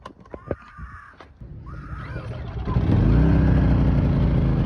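A Poxurio 2450 watt inverter generator is pulled to start on choke. Clicks and a short rattle come first, then the engine catches and settles into a loud, steady running drone close by.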